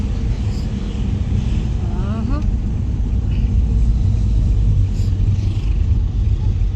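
A manual-transmission car drives along a road, its engine and tyres making a steady low rumble from inside the cabin, with brief faint voices in the background.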